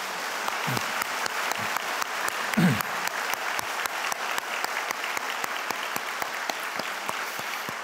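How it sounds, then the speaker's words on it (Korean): A church congregation claps steadily for the choir after a special hymn at a Sunday morning service, a sustained patter of many hands with a few louder individual claps standing out near the start. "우리 다시 한번 박수하도록 하겠습니다"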